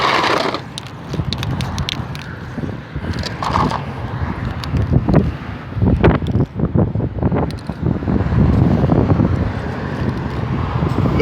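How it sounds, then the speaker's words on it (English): Gusty wind buffets the microphone outdoors at a car lot, a steady rumbling roar with sharper bursts and crackles throughout, loud and close with no talking. "A little windy."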